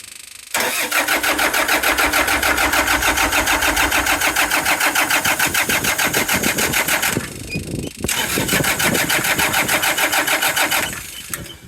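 A generator engine starved of fuel cranks and fires up loud and close, a fast rough chugging that runs for several seconds, stumbles and nearly dies, then catches again briefly before cutting out, with no talking.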